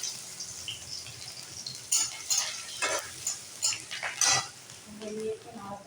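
Crushed garlic fries in a pan while being stirred, a low sizzle under repeated scraping and clinking strokes of a metal spoon, close by.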